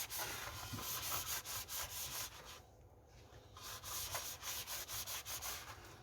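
A water cooler being scrubbed to remove mold, a steady close-up rubbing and brushing noise in fast back-and-forth strokes, briefly pausing midway before resuming.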